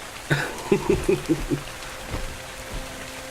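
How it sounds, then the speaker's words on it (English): Rain pattering in the Dark and Light video game, a soft steady patter with a few sharper drops, faint and short. "I can't take a drink now because it's raining."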